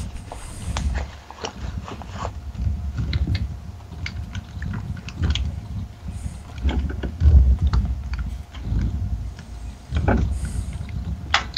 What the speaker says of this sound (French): J'ai tapé sur mon clavier, c'est peut-être ça.